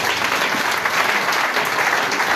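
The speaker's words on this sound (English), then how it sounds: "let us give her a big round of applause" A church congregation gives a dense, sustained round of applause for Mrs. Boakai, a steady roar of many hands clapping with no break.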